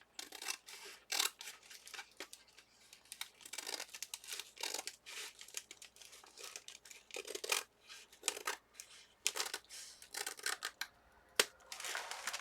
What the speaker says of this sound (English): Let me grab my bigger scissors.